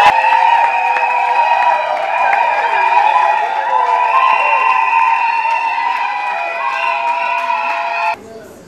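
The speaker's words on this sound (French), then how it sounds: "Sous vos acclamations, bien sûr." Wedding guests at a religious ceremony cheer and applaud, a loud sustained crowd roar with whistling, shouting and music-like tones layered on top, ending abruptly.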